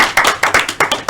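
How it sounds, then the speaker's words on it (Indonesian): A small classroom group claps for a student group in quick, uneven bursts, close and fairly loud, with no voices. "tepuk tangan untuk kelompok"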